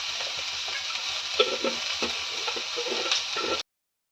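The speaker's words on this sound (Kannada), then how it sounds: "ಆ ಈರುಳ್ಳಿದು ಹಸಿ ವಾಸನೆ ಹೋಗೋ ತನಕ ಫ್ರೈ ಮಾಡ್ಕೋಬೇಕು" Onions frying in a pan for a brinjal gravy, a steady close sizzle with scattered stirring scrapes and light ticks throughout, cutting off abruptly near the end.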